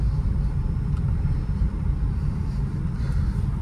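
A car engine pulls steadily forward in second gear during a driving lesson, a continuous low rumble heard from inside the cabin with no change in pitch.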